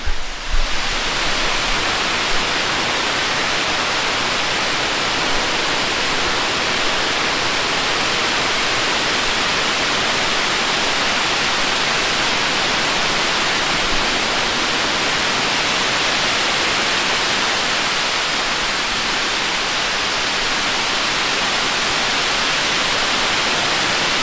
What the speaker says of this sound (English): Even though it's a dam, it's still real pretty. That water is moving. It is coming down.